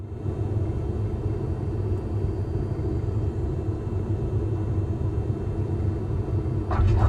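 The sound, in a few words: airplane landing rumble in Microsoft Flight Simulator video game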